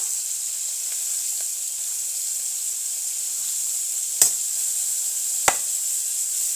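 Food cooks in a pan with a steady, quiet hiss of sizzling, broken by two sharp knocks or clacks near the end.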